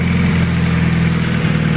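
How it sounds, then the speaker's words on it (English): A turbocharged Honda Civic EK hatch with a non-VTEC B18 engine idles steadily, a continuous low rumble with a faint ticking puff from an exhaust leak near the downpipe flange, close and loud with no talk. "Sounds like we got a little exhaust leak down here."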